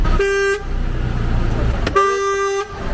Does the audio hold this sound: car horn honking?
yes